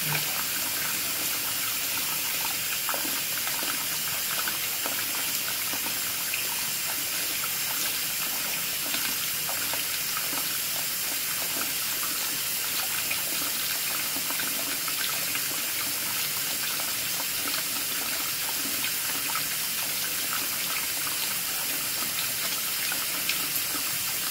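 Water gushing from a faucet at full flow while a Rheem RETEX-18 electric tankless water heater is tested, a steady, loud hiss with no pauses and no talking.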